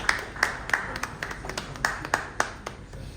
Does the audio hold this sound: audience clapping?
yes